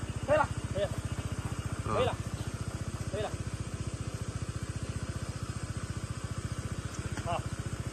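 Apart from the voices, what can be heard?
Kawasaki road motorcycle engine climbing steep off-road hill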